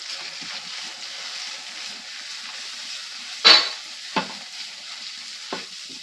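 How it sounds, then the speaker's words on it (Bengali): Spice paste with cumin and chili powder fries in a pan for a fish curry, giving a steady mid-level sizzle with a few louder stirring scrapes and pops near the middle and end. "দিয়ে মশলাটাকে ভালো করে ভেজে নেব।"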